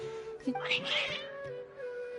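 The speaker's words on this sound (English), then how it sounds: "Your cats, I always thought they were quiet, happy kitties." Cats in the video game Genshin Impact let out several short, rising meows and a drawn-out yowl in quick succession, fairly close, over a steady hum of game music.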